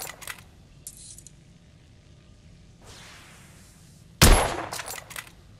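A test weapon fires one sharp, loud shot in the Victorian-era shooter The Order: 1886, with a brief ringing tail, preceded by quiet mechanical clicks and a soft whoosh.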